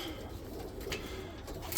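Black widow breeder pigeons in a loft coo softly with low, throaty murmurs over a steady ambient hum, fairly faint and continuous.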